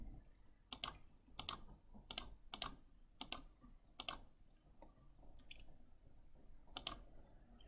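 Buttons on a calculator keypad are pressed to enter numbers, giving a run of crisp, close clicks in an uneven rhythm with short pauses, quiet and alone.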